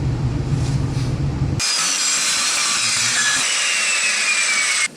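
A saw rasps briefly through a wooden board, then a sharp, continuous high-pitched cutting whine runs steadily for several seconds while trimming the board's corners before stopping abruptly.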